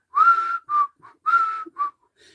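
A person whistles in a back seat: two matching phrases, each a long steady note followed by shorter notes, clear and close with nothing else heard.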